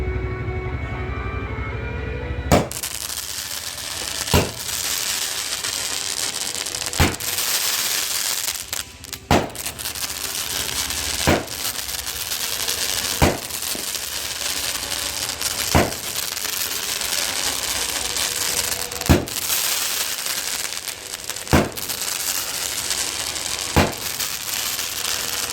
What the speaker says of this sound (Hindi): ये फुल क्रैकलिंग 12 शॉट था।